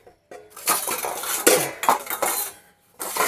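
Metal pots and utensils clink and clatter while being scrubbed, in a steady run of loud, close scraping and knocking with brief pauses.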